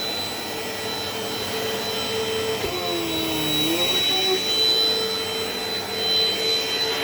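A Dirt Devil Dynamite Plus vacuum cleaner running steadily, a loud, close whine with a high motor tone that shifts pitch briefly midway as it is moved, with no talking.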